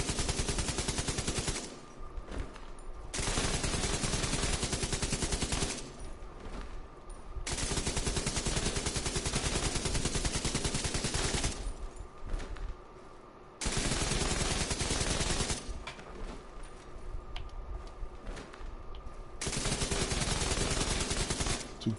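A light machine gun fires in The Division 2 in long, loud, sustained bursts of rapid automatic shots, separated by a few brief pauses.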